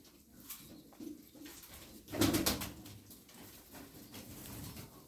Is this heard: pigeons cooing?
yes